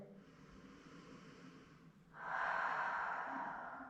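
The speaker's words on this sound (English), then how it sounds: "Take a cleansing breath." A slow cleansing breath during a stress-relief yoga session, with a soft inhale followed by a louder, longer exhale hissing out close to the microphone.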